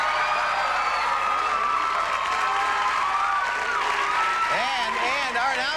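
Studio audience on a 1990 television talk show applauds and cheers for the house band, a steady dense wash of clapping and crowd noise with voices rising over it near the end.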